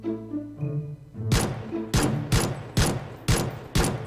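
Pistol gunfire in PUBG, a run of about seven sharp close shots fired at a quick, uneven rhythm after a brief tonal intro sound.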